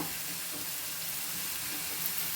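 Onions fry in a pan for a tomato gojju, giving a steady, close, even hiss of sizzling oil with no break across the short stretch.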